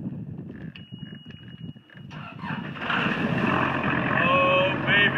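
A brand-new outboard engine on a workboat idles and runs steadily, a low continuous hum with wind and water noise around it, growing fuller and louder in the second half.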